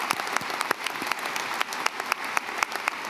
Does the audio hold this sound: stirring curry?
no